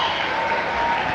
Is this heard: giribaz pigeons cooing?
no